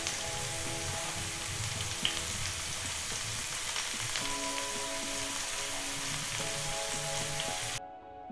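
Shredded cabbage joins half-cooked carrots being stir-fried for Nepali street-style vegetable chowmein, making a continuous dense sizzle close by with occasional light scrapes and no voices.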